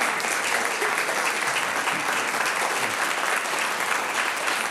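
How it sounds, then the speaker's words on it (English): Audience applause at a city council meeting, a steady dense clapping from a crowd that fills the room at even loudness throughout. "let's give them a big round of applause"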